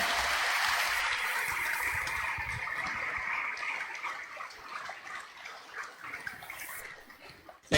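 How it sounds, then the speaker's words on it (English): Congregation at an episcopal ordination in the Archdiocese of Zamboanga applauds the newly ordained Auxiliary Bishop Moises Cuevas, a loud sustained wash of clapping from a large crowd that gradually thins and fades toward the end. "can we all rise and give a warm applause to our newly ordained Auxilliary Bishop"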